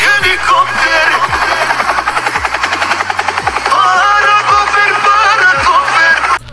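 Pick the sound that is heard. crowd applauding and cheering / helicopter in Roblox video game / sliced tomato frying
helicopter in Roblox video game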